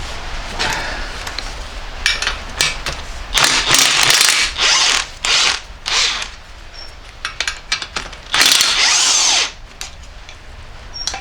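A hand ratchet clicks in quick bursts while unbolting parts from a Vauxhall Vivaro engine, close and loud, with rapid pawl ratcheting separated by short pauses and clanks of metal tools.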